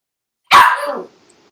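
A dog gives a single sharp bark, loud and close, with a short rough tail that fades quickly into silence.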